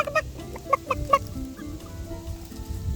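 Backyard chickens cluck while being fed, several short clucks early on and then a steady low murmur of the flock close by, no voice over them.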